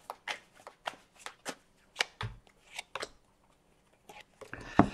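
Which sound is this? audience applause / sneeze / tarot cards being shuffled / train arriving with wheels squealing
tarot cards being shuffled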